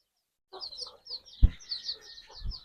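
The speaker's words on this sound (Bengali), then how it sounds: "এগুলো আমার পরবর্তীতে ডিম পাড়া মুরগি হবে আর কি" Young hens being raised as future layers give soft, scattered clucks and chirps in short bursts, close by and fairly quiet, with a single dull thump partway through.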